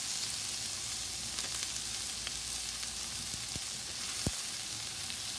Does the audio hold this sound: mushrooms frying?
yes